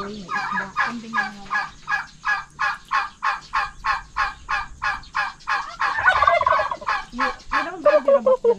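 A turkey gobbles in a long run of rapid, evenly spaced calls, close and loud, with other birds calling briefly near the end.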